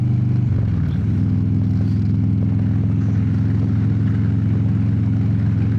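A 2023 Harley-Davidson Road Glide on new suspension cruising down a road, its engine a steady low rumble with constant wind rush, loud and unbroken throughout.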